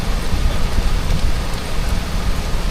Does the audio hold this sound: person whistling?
no